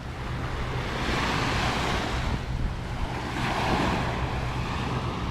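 Waves wash onto a beach at Koh Rong Sanloem, Cambodia, a steady roaring surf with two broad swells rising and falling, mixed with wind buffeting the microphone, no voices.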